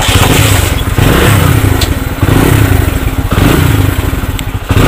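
A Bajaj Vikrant motorcycle engine running without a battery, a loud, close, steady low chugging idle with rhythmic thumping pulses and mechanical clatter throughout.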